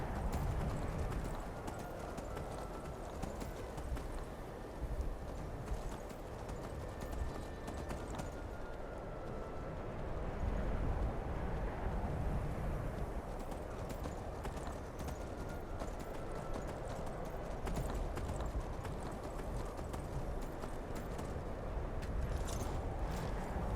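Steady clip-clop of horse hooves trotting continuously at an even pace in the video game Skyrim, mid-distance, with no talking.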